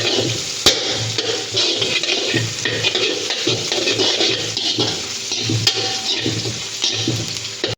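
Garlic and onion fry in hot oil while being stirred for a ladies finger tamarind curry, a close, continuous sizzle broken by repeated scraping and clinking of the spoon against the pan, with no voices.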